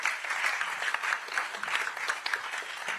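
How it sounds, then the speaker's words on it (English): An AI conference audience gives a round of applause, a steady, moderately quiet wash of many hands clapping with slight swells, no voices over it. "I hope you give a round of applause for the great guests"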